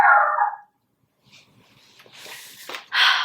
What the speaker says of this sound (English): Every time someone walks through like the main entrance of this building, he barks.